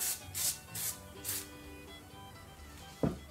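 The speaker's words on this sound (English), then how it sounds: "We're going to go ahead and spray down the pan, you know, so it won't stick." Cooking spray hisses onto a pan in four short bursts in an even rhythm over a faint room hum, followed by a single sharp knock.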